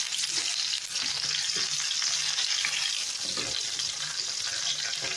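Onions frying in oil in a pan for Mangalorean mackerel pulimunchi, a steady hiss and crackle with occasional scrapes and clinks of stirring, fairly quiet and close, with no talking.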